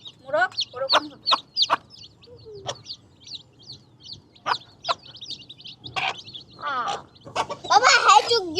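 Chickens, including a yellow-and-white rooster, give short, sharp, repeated clucks in quick bursts close by, with brief quiet gaps between them and some voices joining near the end.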